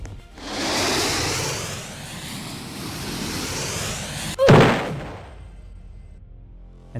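A tank's weapons and rockets firing in a Roblox military base game give a long, rushing whoosh that swells and fades, then one sharp, loud blast near the end, with no talk.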